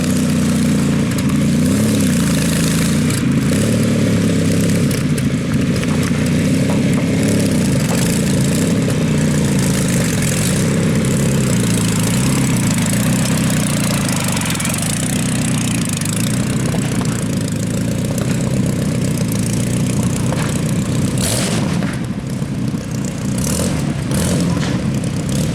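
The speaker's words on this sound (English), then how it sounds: "shoehorned in a 12 litre Hispano Suiza V8 Aero engine to give it 300 horsepower." A big vintage car with a 12-litre Hispano Suiza V8 aero engine idles nearby, a deep, loud and steady rumble with slight uneven throbbing that runs unbroken for the whole stretch.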